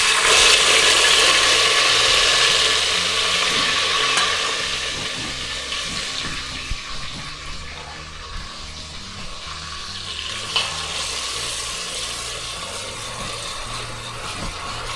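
Mustard seeds, cumin, hing and finely chopped tomatoes sizzle loudly in hot oil, a dense continuous hiss with crackling pops that eases slightly as the tomatoes go in, close up.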